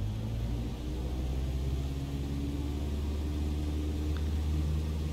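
A simulated light aircraft engine in Microsoft Flight Simulator 2020 drones at full throttle during a short-field takeoff roll, giving a steady, deep rumbling roar that stays loud and unbroken throughout with no talk.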